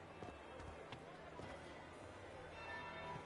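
A church bell tolls in Dragon Age: Inquisition, faint repeated strikes at a steady rhythm under low ambient background noise.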